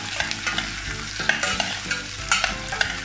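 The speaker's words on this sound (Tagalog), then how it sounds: "i-goldie po natin yung sibuyas po para maluto" Chopped onions sautéing in a pan until golden, for sautéed Baguio beans with canned tuna: a steady close sizzle with repeated scraping stir strokes, no voices.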